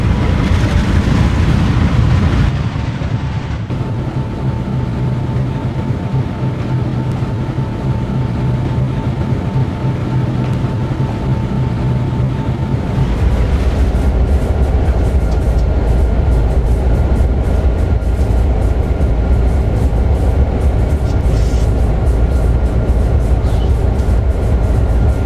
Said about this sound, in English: June and Kyle pulled into the yard with an auto-rack train